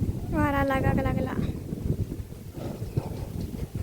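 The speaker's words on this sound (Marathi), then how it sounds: "कसलो वारं सुटलो बघ." Strong wind gusts outdoors in a Konkan village ahead of the first monsoon rain, heard as a low, buffeting rumble on the microphone; a cat meows clearly near the start before the gusting carries on alone.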